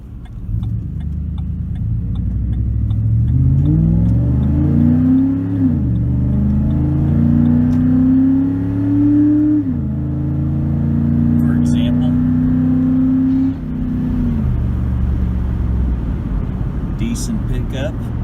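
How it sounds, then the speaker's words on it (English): A 2008 Ford Expedition with a custom exhaust drones loudly while driving. The engine note climbs through repeated rising revs, each ending in a sharp drop as it shifts, and a voice talks over it throughout. "this exhaust system I set up together turned out just the way I wanted it"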